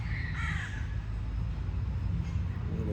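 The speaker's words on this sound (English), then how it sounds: "The crows." Crows caw outdoors at a distance, a few faint rough calls near the start over a steady hiss of background noise.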